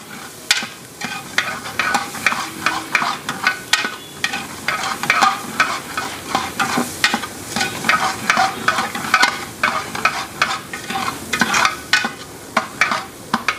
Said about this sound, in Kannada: ಸ್ವಲ್ಪ ಎಣ್ಣೆಲ್ಲ ಚೆನ್ನಾಗಿ ಫ್ರೈ ಮಾಡ್ಕೊಬೇಕು.